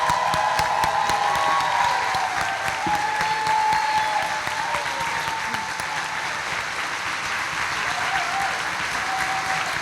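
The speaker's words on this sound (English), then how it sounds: "So I want us all to stand and give Jeannie Rankin a round of" A school convocation audience gives sustained, loud applause that fills the whole stretch, a dense even wash of many hands clapping with no pauses.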